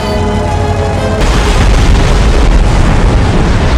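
In a war film, a German submarine is hit by gunfire from the destroyer Greyhound, and a loud, sudden boom breaks out into a sustained roaring explosion that fills the remaining seconds.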